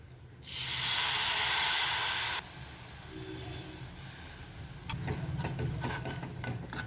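A loud burst of hissing sizzle as tamarind water hits hot ginger in a pan, lasting about two seconds, then settling into softer bubbling and intermittent stirring clatter.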